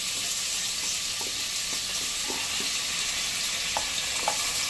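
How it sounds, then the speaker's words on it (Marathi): Potatoes, peas and other vegetables sautéing in oil and butter make a steady, even sizzle throughout, close and moderately loud, with faint soft taps of stirring here and there. "सगळ्या भाज्या आपण ह्याच्यात ह्या तेलात आणि बटर मध्ये परतून घेऊया चांगल्या।"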